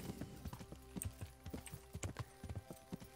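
Hooves of the horse Sleipnir clip-clopping in the video game Kingdom Come: Deliverance; a quick, uneven run of close hoof strikes on hard ground, fairly quiet and heard alone.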